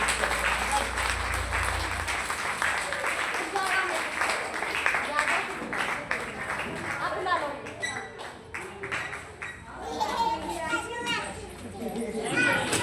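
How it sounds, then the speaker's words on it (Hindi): Loud, dense applause from an audience, clapping steadily throughout with children's voices and chatter mixed in, cheering a grandmother aged 85 at a crowded gathering. "जोरदार तालियां।"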